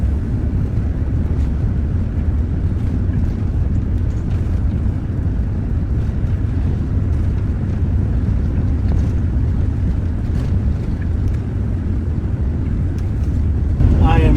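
A boat runs steadily along a river toward the Navajo Rapids, its broad low rumble mixed with wind buffeting the microphone throughout, with a brief rise near the end.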